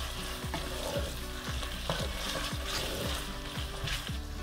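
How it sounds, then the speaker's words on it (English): Tomato paste being stirred into vegan jollof rice in a pot, a soft sizzle under repeated rhythmic scraping strokes, fairly quiet and close with a faint low hum beneath. "I'll now add my tomato paste to it. And then you stir it"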